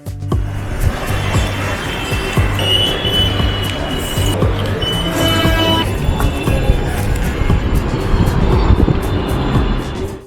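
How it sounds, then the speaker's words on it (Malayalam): A low-flying airplane roars overhead while landing near Mumbai airport, a loud sustained engine rumble heard from a busy metro platform, with background noise and scattered clatter throughout. "തൊട്ട് മുകളിൽ കൂടെ പറന്നിറങ്ങുന്ന വിമാനം"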